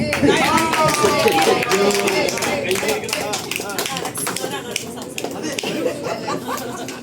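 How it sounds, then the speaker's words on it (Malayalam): Audience clapping at a family tribute gathering, a dense burst of applause mixed with chatter and light laughter, loudest at the start and easing slightly. "കയ്യടി."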